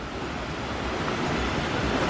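Rushing water of the Kali River Rapids ride at Animal Kingdom, Florida, a steady broad roar that swells slightly toward the end, with no voices over it.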